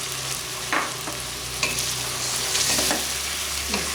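Half a kilo of chicken dropped into a pan with garlic-ginger paste for chicken tinday, sizzling steadily with a few sharp stirring scrapes and clatters, close and fairly quiet.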